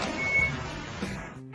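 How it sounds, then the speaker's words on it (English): A black pickup truck reverses while its reversing alarm sounds a high steady beep, with engine rumble underneath and a brief clatter near the end. "he just reversed his car so hard until that white SUV got dragged by his car"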